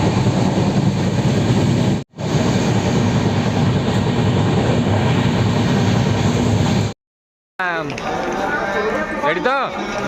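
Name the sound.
train at railway platform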